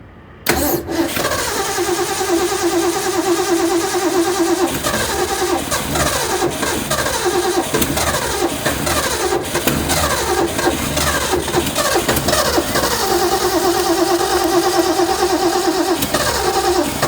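A 1966 Ford Mustang engine cranks briefly and then catches into a loud, steady rumbling idle with a slightly uneven, tappy beat. The running engine is close and continuous for the rest of the clip.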